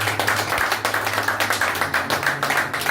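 Church congregation clapping together in acclaim of the Lord at a Pentecost service, a steady rhythmic run of hand claps repeating about every third of a second throughout, close and fairly loud, with a low hum beneath.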